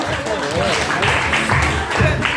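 A crowd of guests applauds at a first-birthday party, a brief burst of clapping with voices talking over it.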